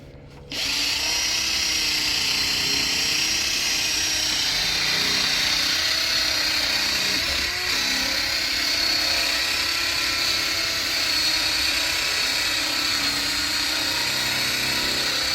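A power tool polishes the headlight of a 2005 Chevrolet Silverado truck during restoration, a loud steady whirring drone that runs almost unbroken from start to finish.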